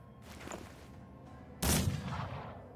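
A single aimed musket-style gunshot fires in the turn-based game Mordheim: City of the Damned, a sharp loud blast followed by a short decaying rumble over quiet background ambience.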